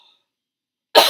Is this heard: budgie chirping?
no